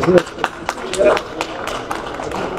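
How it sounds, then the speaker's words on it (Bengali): An audience at a political speech claps in a brief uneven patter of separate claps that fades after the first second, with a voice speaking over it. "আমি না মাঝে মাঝে বুঝি না আপনারা কি বুঝে হাততালি দেন।"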